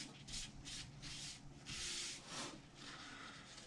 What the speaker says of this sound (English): I want to wipe out any excess oil in the pan